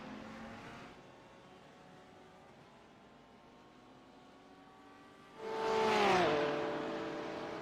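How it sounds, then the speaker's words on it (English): A GT3 race car sweeps past near the end of a GP Performance Series race, its engine note rising loudly for a couple of seconds with a falling Doppler pitch before trailing off, after a stretch of quieter distant track noise. "the GT3 car is just coming by to finish up their race"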